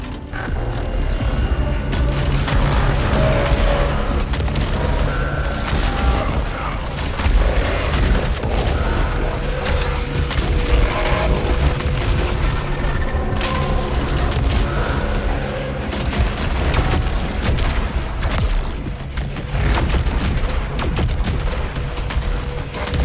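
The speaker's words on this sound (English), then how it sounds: "This shotgun up close is doing comparable damage" Shotgun blasts up close in the video game Saros, heavy booming shots over a dense, continuous wash of combat noise, mechanical clatter and music that never lets up.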